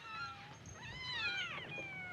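A cat gives a single drawn-out meow that rises and then falls, fairly faint and alone, in the sitcom Bewitched.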